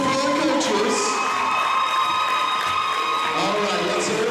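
Crowd in school bleachers cheering and shouting for the coaches, a loud continuous roar of voices with whoops and children's shouts.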